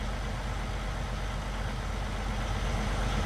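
Septic truck idling as it pumps out a restroom in American Truck Simulator, a dense, steady engine-and-pump drone with broad noise, unchanging and fairly loud, with no voices.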